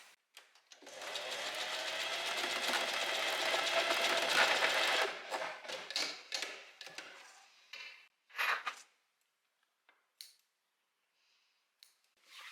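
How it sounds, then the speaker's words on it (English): A sewing machine stitches elastic onto a little black dress near the edge in one long steady run, then breaks into short bursts and pauses, close and clear. "I'm moving my needle to the right because I want to sew relatively close to the edge"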